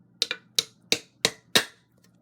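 Five sharp metallic taps of a hammer driving a nail into an empty aluminium soda can, evenly spaced and close, each a bright short click with a quick ring.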